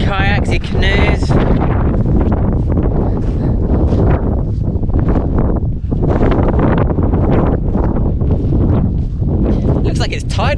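Strong wind gusts across a lake in Cornwall, buffeting the microphone with a loud, continuous roar that barely lets up for the whole stretch.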